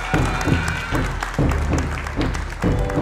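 A crowd at a youth sports event bursts into loud applause for mothers, with bursts of clapping, cheering and a few voices mixed in nearby.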